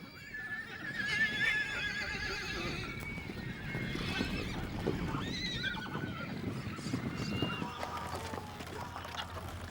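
Horses neigh and whinny repeatedly at a Pantanal hacienda, with hoof clip-clops and a steady outdoor bed of animal and ambient noise throughout, loud and close.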